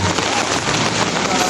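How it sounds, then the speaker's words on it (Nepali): Heavy rain pouring down during a wedding gathering, a dense, loud, steady hiss of drops hitting surfaces, with faint voices mixed in. "साह्रै पानी पर्यो अब पानी झन् डर्कियो"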